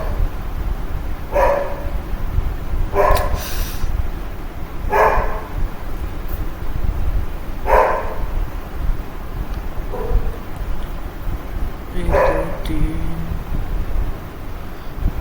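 A dog barks outdoors, about six separate barks spaced a couple of seconds apart, moderately distant over a steady windy, rumbling background with no talking.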